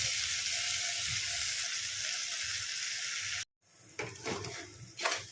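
Cluster beans cooking in oil in a covered pan give a steady, hissing sizzle. After a sudden cut, it returns quieter with the clatter of pan and utensil handling.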